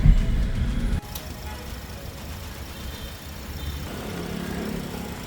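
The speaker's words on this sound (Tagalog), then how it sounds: "Okay, stable yung idling." A repossessed car engine idles steadily nearby, a low, even hum that continues alone after a brief louder burst at the start.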